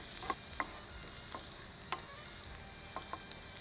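Three green chillies are sautéed in a pan, giving a faint, steady sizzle. Soft clicks of a stirring utensil come through occasionally, with no voices.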